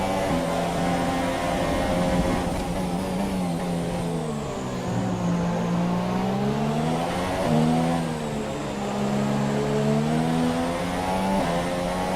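A Formula 1 race car engine from the F1 2017 video game, at the Australian GP, whines steadily with the pitch rising and falling through gear changes and corners, loud and alone.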